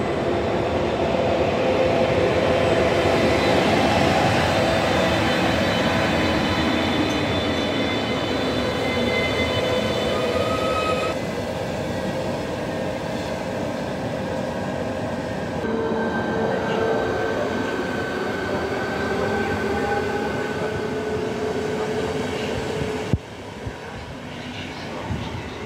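A RegioJet train rumbles steadily through Ostrava main railway station, a sustained loud hum with shifting tones, ending with a few sharp clanks.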